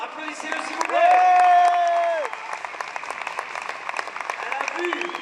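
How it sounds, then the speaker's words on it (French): A crowd applauds a trial motorcycle rider standing on the podium, with clapping and cheering throughout and a loud sustained tone rising over it for about a second early on. "Applaudissez-le, s'il vous plaît."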